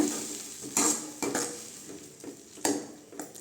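Ground tomato paste sautéing with fried onions for a sardine fish curry, giving a soft steady sizzle broken by several sharp spoon scrapes and stirs against the pan, close and moderately loud with no talk.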